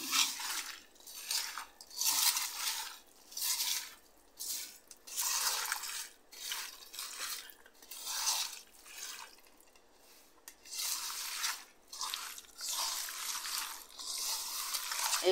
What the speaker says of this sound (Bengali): এখন আমি এটাকে একদম ভালো করে মাখিয়ে নেব